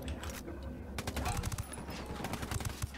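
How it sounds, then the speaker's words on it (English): Rapid bursts of gunfire from a cooperative session of the video game Ghost Recon: Wildlands, repeated shots crackling over a steady low rumble, with players talking over the shooting. "Are you shooting people? Oh, I am."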